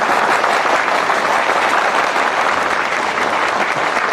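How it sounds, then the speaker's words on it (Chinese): A corporate club audience applauds loudly and continuously as a company vice general manager is invited on stage, a dense, sustained clapping from many hands that fills the whole stretch. "掌声再热烈一点"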